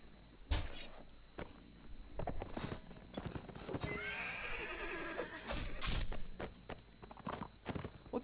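Horse neighing and clip-clopping in the video game Mount & Blade: Warband, with a loud whinny in the middle amid sharp hoof and combat impacts, all close and busy with no talk.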